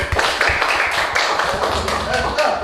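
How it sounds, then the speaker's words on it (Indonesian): A group claps together in a dense, steady patter of applause in a classroom, with voices talking over it. "Tepuk tangan dulu buat kelompok stroberi ya."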